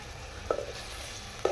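Tomato and onion paste sautéing in hot oil for chicken gravy, a soft steady sizzle with two brief clinks of a utensil against the pan.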